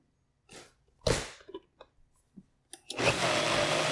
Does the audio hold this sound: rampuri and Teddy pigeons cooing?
no